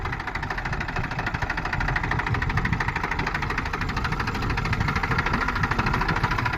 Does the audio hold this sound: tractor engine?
yes